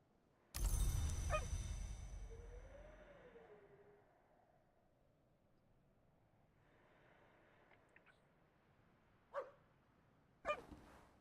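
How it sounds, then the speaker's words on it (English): A stray dog in the video game Book of Hours gives one sharp bark followed by a short whimper, then two more faint yips several seconds apart against quiet ambience. "Stray dog."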